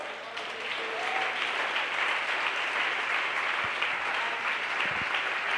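A church congregation at Sunday school claps steadily and fairly loudly, sustained applause filling the space with no one speaking over it.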